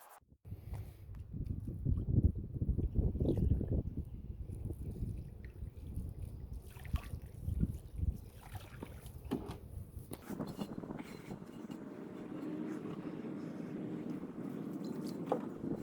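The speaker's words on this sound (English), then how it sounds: "Got a bucket of soap water, got a brush." Brush scrubbing a vintage wheel rim in a bucket of soapy water, a steady close wet swishing and sloshing with bristle scraping that continues throughout, growing softer and more even toward the end.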